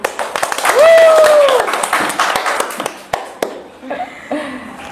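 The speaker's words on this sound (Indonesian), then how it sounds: "Tepuk tangan lagi" An audience at a Sundanese arts and literature event claps in scattered bursts alongside cheering, a rising whoop and some laughter, with separate claps trailing off toward the end.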